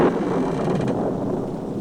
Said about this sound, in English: listened to the thunder and the rain